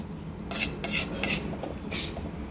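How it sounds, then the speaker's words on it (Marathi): A spoon scrapes and stirs roasted jowar flour mixture in a pan over low heat, making four or five gritty, rasping strokes with light metal scraping, close and fairly loud with no talking. "याला फक्त मिक्स करून घ्यायचं आहे."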